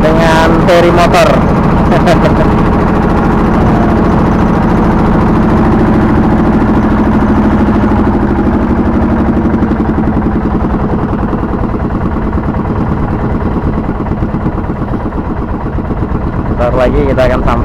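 A motor ferry crossing the Mahakam River from Mangkurawang to Loa Lepu gives off a loud, steady engine drone that continues throughout, with a constant low throb.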